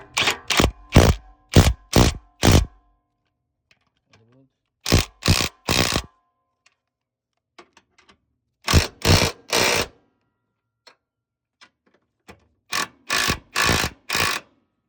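A ratchet wrench tightens engine mount bolts on a Toyota 2AZ-FE engine, heard as close, crisp bursts of rapid clicking in several separate runs with quiet pauses between them.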